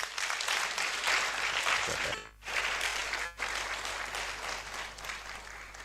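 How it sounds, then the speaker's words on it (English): An audience applauds at a university awards ceremony, dense steady clapping from many hands that fills the room, dips briefly twice, then continues to the end. "we also give a round of applause to"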